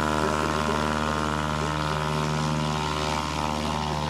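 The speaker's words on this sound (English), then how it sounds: "some of their students are competing in this exact competition with airplanes they built" A propeller airplane flies in a STOL short takeoff and landing competition, its engine a steady, loud, continuous drone with strong tonal harmonics that holds throughout without pause.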